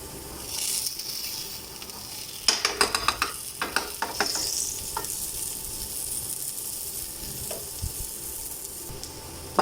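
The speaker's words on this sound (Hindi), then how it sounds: "पराठे की साइड चेंज हो गई है, थोड़ा मक्खन लगाएंगे" A barley and gram flour paratha fries with butter on a griddle, a steady sizzle broken by a quick cluster of scraping, pressing strokes and some clinks.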